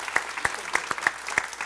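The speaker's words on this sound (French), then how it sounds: "on peut applaudir Michel" An audience claps for Michel in brief, scattered applause with sharp individual claps standing out, fairly close, with no talking over it.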